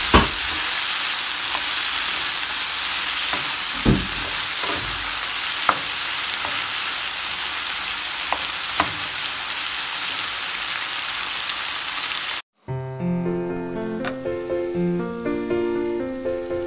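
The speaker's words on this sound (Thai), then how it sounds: "ใส่ซีฟู้ดลงไปผัดนะคะให้เข้ากัน" Seafood being stir-fried with holy basil in a hot pan, a loud continuous sizzle with occasional scraping stirs for about twelve seconds before it cuts abruptly to music.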